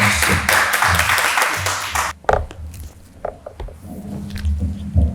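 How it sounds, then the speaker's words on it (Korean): Church congregation applauding a guest pastor, a dense crowd clapping for about two seconds that then breaks off into scattered taps and murmuring in the hall. "우리 큰 박수로 열렬하게 환영해 주시고"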